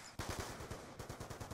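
Rapid automatic gunfire in Black Ops 2 Zombies on the Buried map, a fast rhythmic burst of close shots that starts abruptly, pauses briefly and then resumes.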